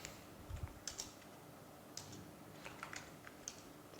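Someone typing a short command on a computer keyboard: sparse, light key clicks scattered over a few seconds, faint against a steady hiss of room noise, no talking.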